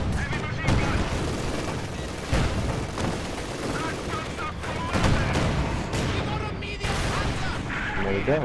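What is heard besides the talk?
mortar and gunfire in video game Company of Heroes 2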